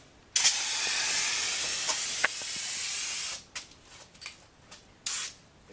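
A spray gun lays clear coat on a 1966 Ford F100 in a steady, loud hissing burst of about three seconds, followed by several short, choppy sprays and one final brief burst.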